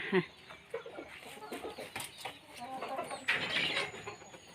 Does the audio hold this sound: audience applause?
no